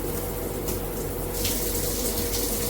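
Water sprays steadily from a MakeFit filtered shower head with handheld combo set to front jet mode, giving a loud, continuous close-up hiss with no talking.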